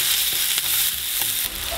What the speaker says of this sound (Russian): Буквально минуту прожариваем и сразу следом отправим квашеную капусту.